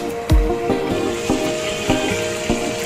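Beef muthiya kababs fry in oil under a lid in a covered pan, giving a steady close sizzle with a few soft taps of the lid or spatula and no talk.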